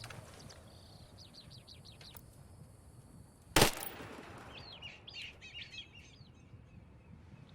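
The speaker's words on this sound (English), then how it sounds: "I shot one bullet, and all these birds started flying away, and you hear that flap of wings" Birds chirp in a video game before a single sharp, loud gunshot cracks. Right after, a flock bursts into flight with fluttering wings and a flurry of chirps and calls that fade away.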